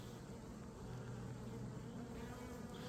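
Honey bees buzzing around a hive while bringing in pollen, a faint steady hum of many wings blending into a continuous low drone with no talk.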